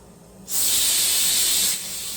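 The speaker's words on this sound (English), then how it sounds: "what you're seeing is the actual WD-40 burning off as well as the rust" A laser cleaner burning WD-40 and rust off metal on a Japanese pagoda piece, a close, loud, steady hiss that switches on abruptly, holds for about a second, then eases to a lower hiss.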